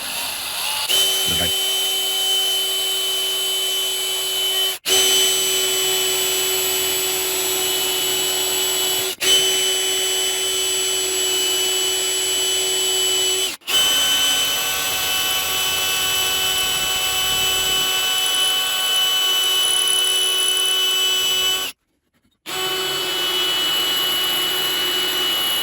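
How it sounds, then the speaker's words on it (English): A power drill bores a hole through a Romanian MD65 underfolder AK parts kit, running as a loud, steady high-pitched whine for over twenty seconds with a few brief interruptions and a short stop near the end. "I may just drill through that, just so I don't have to locate it again and risk missing the hole"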